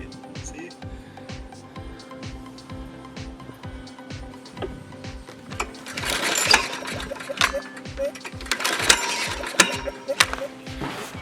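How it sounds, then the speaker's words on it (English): A repaired walk-behind lawn mower runs while it cuts grass, giving a steady, rapid mechanical ticking that grows rougher and louder with bursts of clatter partway through. "I got it back together, it's working. I'm cutting the grass."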